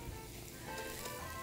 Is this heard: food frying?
yes